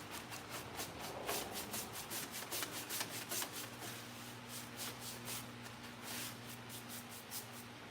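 A paintbrush pounces and dabs paint onto furniture in quick, soft, repeated taps with a faint rubbing texture, quiet and close.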